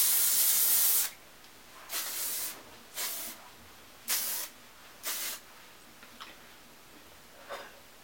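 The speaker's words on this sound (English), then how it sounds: "I'm going to do the flip over and then spray so I can get a lot more volume" Hairspray is sprayed onto curled Malaysian bodywave hair in a series of sharp hissing bursts: one long spray followed by several short, evenly spaced puffs, close and clear with quiet gaps between.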